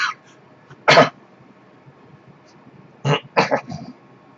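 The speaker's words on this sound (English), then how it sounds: "That was a slight cough." A few short coughs: one soft burst, a pause, then a small cluster of two or three quick coughs close to the mic in a quiet room.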